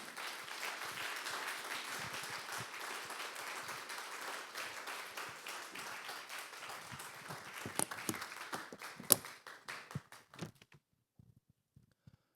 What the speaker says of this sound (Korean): 우리 조일남 목사님 나오실 때 힘찬 박수로 모시도록 하겠습니다.